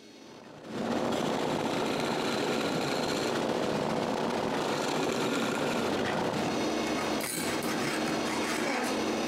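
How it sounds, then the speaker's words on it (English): A drill bores a hole through a wooden part for a candy dispenser's mechanism shaft, a steady loud whirring grind that starts abruptly and runs continuously, with a brief shift in tone near the end. "For now, I'm just going to drill a hole."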